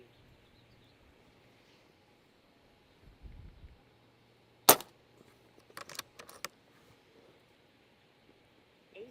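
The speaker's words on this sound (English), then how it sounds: "I'm going to go ahead and shoot upper left, and we're going to do 5-shot group." Komplete NCR .22 air rifle fired for a five-shot group at an airgun expo: one sharp crack, then a few quieter clustered snaps a second later, against a faint low background hum.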